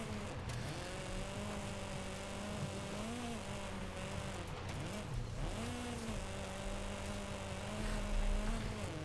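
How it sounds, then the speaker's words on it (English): Mazda MX-5 driven off road in Forza Horizon 5, its engine note rising and falling with gear changes and revs, steady and moderately close, with a brief surge near the end. "Off road in a Mazda MX-5"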